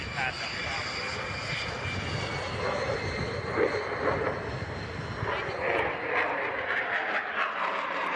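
An aircraft engine roars steadily during a tail stand maneuver at an air show, a loud sustained drone that swells slightly midway, with an announcer talking over it.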